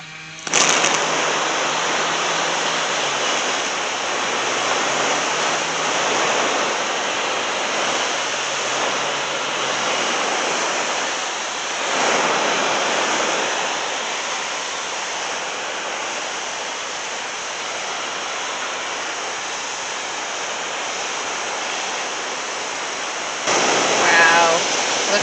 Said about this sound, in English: let's get watering some of this stuff